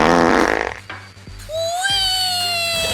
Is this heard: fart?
yes